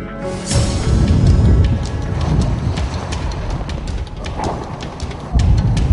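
Hurricane Katrina's storm wind and heavy rain roar loudly and steadily, a dense, close wash of gusting wind and pounding rain with no pause.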